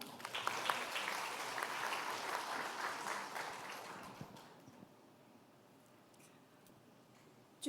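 A hall audience at a Macau forum on women's development applauds as the next speaker is called up, steady clapping that holds for about four seconds, then thins into quiet room tone.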